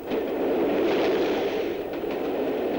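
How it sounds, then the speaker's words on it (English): Train rushing past a level crossing with barriers down, a loud continuous roar with rattling wheel noise close by, steady throughout with no voices. "Within seconds, the train will pass."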